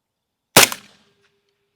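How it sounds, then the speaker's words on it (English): A single sharp report from a budget rifle fired at a target outdoors, one loud crack with a brief fading ring and echo, then silence, no voices. "Shoot again, just favor the left and still be on the target."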